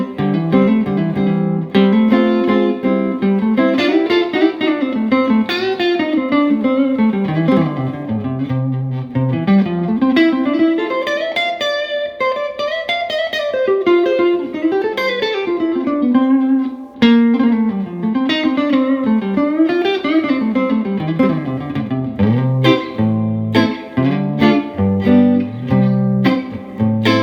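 Electric guitar played through the front pickup, mixing double stops with single-note lines, steady and continuous with a slightly effected, reverberant tone and no talking.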